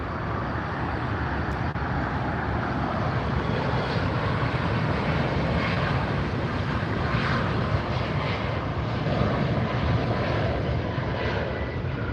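Southwest Airlines jet taking off from runway 24 left at LAX, a loud, steady, broad roar of jet engines heard from close by, with no voices.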